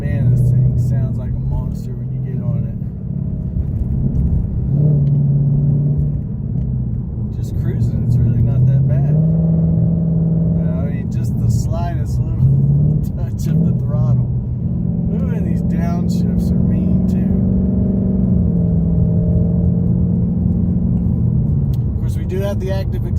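A 2019 Mustang GT PP1 with a cat-delete exhaust rumbles deep and loud at close range, its engine note rising and falling through several revs while a person talks over it.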